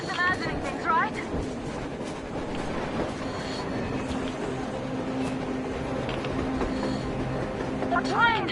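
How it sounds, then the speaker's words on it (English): Steady rumble of a train running on the surface in the post-apocalyptic game Metro Exodus, a continuous low rolling drone under excited shouting voices. "A train! A damn train on the surface!"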